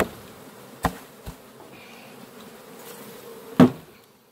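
A low, constant drone of honeybees around a hive during swarm hiving, punctuated by three sharp knocks, the last one loudest near the end.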